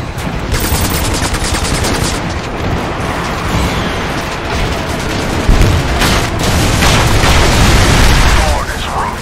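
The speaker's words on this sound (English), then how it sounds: "Scramble! More bombs incoming!" Bombs and airstrike blasts in the sci-fi shooter game Section 8: Prejudice, a dense, loud continuous barrage of booming explosions and rattling gunfire with a heavier impact swell midway, under faint battlefield voices.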